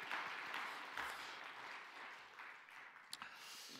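A church congregation applauding young musicians after a service, a steady wash of clapping from a crowd that fades gradually, with a few sharper claps near the end.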